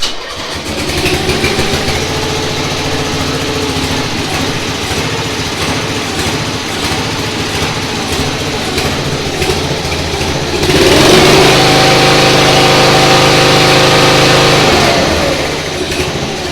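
A small engine on a homemade trackless train runs steadily and loudly up close, then revs up sharply to a higher, louder drone for several seconds before easing back down.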